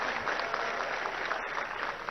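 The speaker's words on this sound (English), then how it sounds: "I think you should welcome him with a good round of applause" Audience applause at a university golden jubilee conference ceremony, a continuous even roar of many hands clapping that holds steady throughout.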